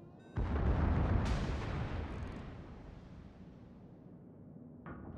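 Secondary battery guns on a warship in World of Warships fire in a heavy booming salvo that cracks sharply and rolls into a long fading rumble, followed by another burst near the end, with no talking.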